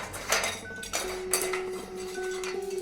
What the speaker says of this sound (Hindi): अचानक किचन से बर्तन गिरने की आवाज आई।